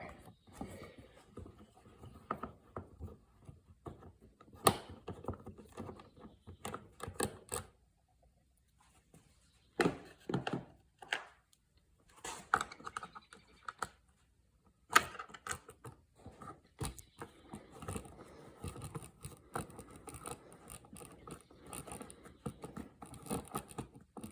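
Screws are worked out of a Yamaha Warrior ATV carburetor in quiet, scattered bursts of metallic clicks, ratcheting and handling rattles, with a few louder knocks and near-silent pauses between.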